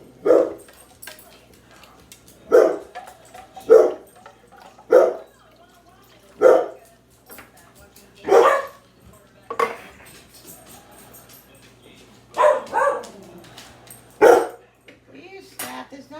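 Dogs bark repeatedly in separate sharp bursts at irregular intervals, fairly close, with faint kitchen clatter between barks.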